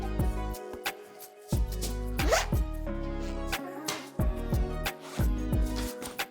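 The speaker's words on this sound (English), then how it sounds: "And I'm zipping up my compression bag." A compression packing cube bag is zipped shut in several bursts, each a sharp ratcheting zip with short pauses and tugs between them, close and clear.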